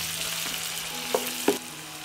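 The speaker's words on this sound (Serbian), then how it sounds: "Ulje se zagrelo i propržit ću crni luk, dodajem beli luk i sve ću pržiti dok luk ne omekša." Onion and garlic frying in hot oil in a deep pan, giving a steady, soft sizzle with a couple of brief sharper crackles or utensil taps.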